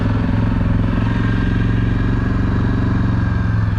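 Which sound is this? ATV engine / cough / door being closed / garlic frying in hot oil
ATV engine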